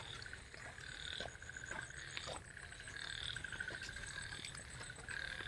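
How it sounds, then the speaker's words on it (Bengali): Night insects trill in a steady outdoor chorus, with high continuous chirping, occasional faint pulses and a low background murmur, and no voices. "চিচি পোকা না কিসের আওয়াজ সেটা শোনা যাচ্ছে।"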